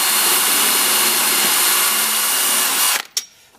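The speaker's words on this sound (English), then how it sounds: "just drill the size out." Power drill boring a hole through a Honda Civic FN bonnet for Mugen vents, a loud continuous close-up whine that cuts off abruptly near the end, followed by a brief clunk.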